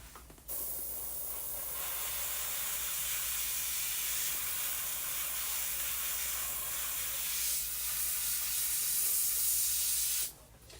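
A paint spray gun hisses in a long, steady burst of airy spray that starts abruptly, holds with slight uneven surges, and cuts off near the end, close and fairly loud with no talking.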